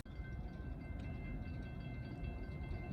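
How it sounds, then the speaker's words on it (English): Train approaching at dusk near a rail wye, a low steady rumble of rolling cars with a faint thin tone above, quiet and somewhat distant, no voices. "Got another train coming just before it's almost completely dark."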